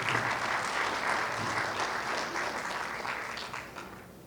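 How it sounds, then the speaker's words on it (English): Audience applause at a street sign unveiling ceremony at Clark Atlanta University, a steady dense wash of many hands clapping that holds for several seconds and then slowly thins out. "Let's give our scholar a big round of applause."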